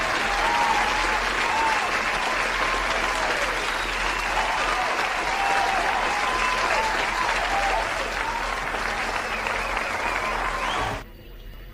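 Sustained applause from a large crowd, steady and dense with clapping throughout, then cutting off abruptly near the end.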